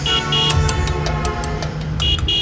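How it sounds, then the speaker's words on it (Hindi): A cartoon vehicle horn honks again and again in traffic, bright repeated toots over a loud engine drone, close and insistent, with short gaps between blasts. "सिर्फ हॉर्न मारे जा रहा है।"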